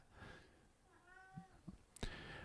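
A house cat gives one clear meow at moderate distance, followed by a couple of soft thumps and a sharp knock.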